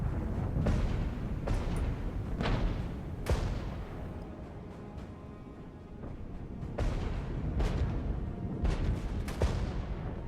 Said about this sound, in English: Artillery should be coming in.